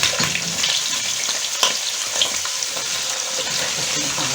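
Potatoes fry in hot ghee and oil, giving a loud, steady sizzle with a few sharp crackles and light stirring sounds close by, and no voices.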